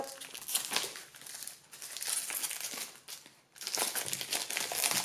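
Packaging of a Santa Muerte tarot deck in a rigid box being unwrapped, with close, steady crinkling and crumpling of wrapping that pauses briefly twice before resuming at similar loudness.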